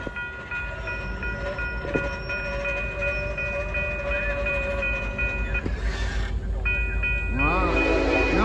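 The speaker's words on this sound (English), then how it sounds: "We got a train coming on the Norfolk Southern Line" A Norfolk Southern freight train led by an SD70ACE locomotive passes close by, a loud continuous rumble of engines and rolling cars with steady sustained horn tones, ending in a rising squeal, over faint talk.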